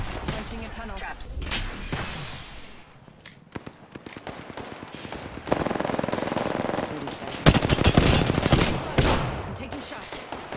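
Automatic gunfire rattles in a shooter video game during a kill challenge, with sustained bursts in the opening seconds, a brief lull, then dense, loud volleys building toward the end over a steady game background.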